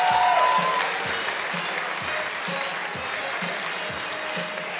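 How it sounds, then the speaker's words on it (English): Crowd applause at the QuakeCon 2006 championship, sustained clapping and cheering from an audience, with a beat of music thumping underneath. "Let's give a big round of applause."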